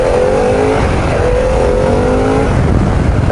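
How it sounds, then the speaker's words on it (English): Loud, steady engine roar with rising revving tones, a high-revving Harley-Davidson Pan America motorcycle pulling hard close by with no voices. "it's quite a high revving bike"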